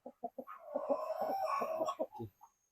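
Brahma chickens on a forest farm give several short clucks, then a denser run of overlapping clucking and calls, close and fairly quiet, ending in a few separate low clucks.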